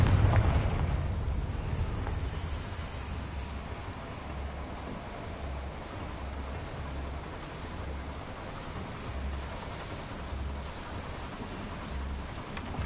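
A Confringo fire spell blast in Hogwarts Legacy, opening with a loud booming burst that settles into a rumbling roar and pulsing low thuds lasting several seconds.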